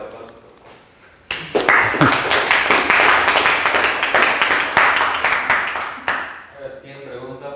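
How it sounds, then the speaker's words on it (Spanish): An audience applauds after a physics lecture on radiative corrections to the Higgs mass, a burst of many hands clapping that starts sharply and runs about five seconds before stopping, with a voice speaking briefly before and after. "Fuerte aplauso."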